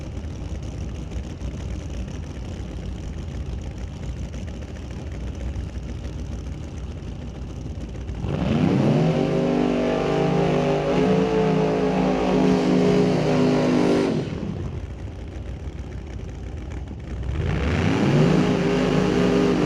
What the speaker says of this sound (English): Nice couple of burnouts.